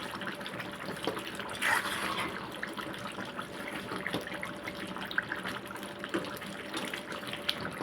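Chicken curry simmers uncovered in a pot as its water cooks off and the oil rises, giving a steady, close bubbling and sizzling that runs unbroken with no voices.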